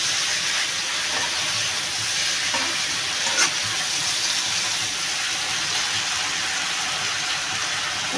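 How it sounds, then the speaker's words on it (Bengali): Soybean curry simmers in a pan after water goes in, a steady close sizzle and hiss with a few faint clinks of stirring, and no voices. "আমার তরকারিটা কষানো হয়ে গেছে, আমি জল ঢেলে দেবো।"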